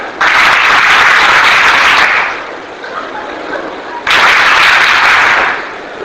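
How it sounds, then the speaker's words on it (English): A workshop audience of teachers at an academy in Meerut claps on cue in two loud, dense bursts of applause, each lasting about two seconds, separated by a quieter lull. "I said when I put my hand up, you clap."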